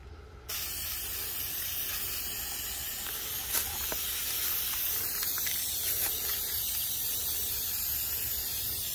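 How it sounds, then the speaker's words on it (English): An aerosol can of spray paint hissing steadily onto a metal file cabinet outdoors, a continuous close, airy spray that starts abruptly, with faint clicks and taps around it. "Then I'll go ahead and start spraying."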